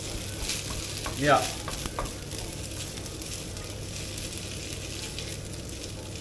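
Food fries in a frying pan with a steady close sizzle and occasional stirring scrapes, and one brief word is spoken near the start.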